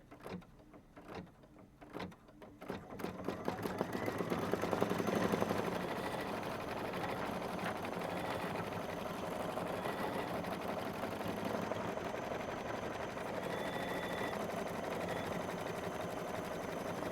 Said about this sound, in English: So I'm going to go ahead and stitch the daisy detail stitches